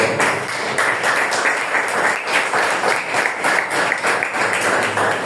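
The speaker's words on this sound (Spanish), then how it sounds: "Dale palmas a Dios." Congregation at a church sermon clapping for God, a loud, steady, rhythmic wash of many hands in unison, sustained for several seconds with no talking over it.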